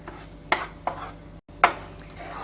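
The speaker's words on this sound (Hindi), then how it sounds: "तो अब हमने सिका हुआ कोकोनट तैयार किया है वो हम इसमें डालेंगे और इसे अच्छी तरह से हिला के तैयार करेंगे।" A spoon scrapes through a thick mango paste mixed with roasted coconut in a pan for mango laddu. Three sharp, spaced scrapes stand out over a faint background, with no voice.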